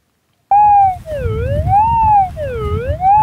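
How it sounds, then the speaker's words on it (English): A Minelab GPX 5000 metal detector at a Civil War camp site gives a bullet signal: a loud warbling tone that rises and falls in pitch in slow sweeps over low ground rumble. "That sounds like a bullet signal."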